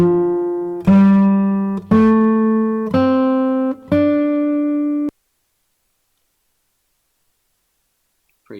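A Japanese scale played at guitar-lesson tempo, five sustained notes each held about a second and stepping upward, clear and close, followed by several seconds of silence and a faint sound at the very end.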